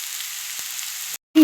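Potatoes and onion stalks frying in a pan make an even, hissing sizzle for about a second before it cuts off abruptly into silence, then a brief tonal sound follows.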